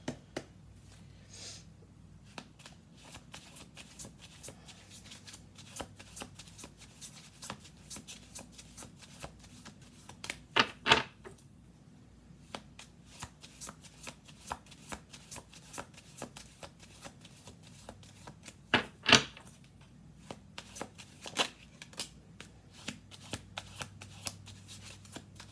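A deck of oracle cards is shuffled by hand, giving soft, rapid riffling and papery slaps with a few sharper bursts, close and quiet, over faint room noise.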